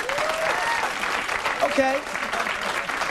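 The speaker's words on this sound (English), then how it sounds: "Clap if you love your job." Audience applause at a stand-up comedy show, a steady wash of clapping throughout with a brief spoken word over it.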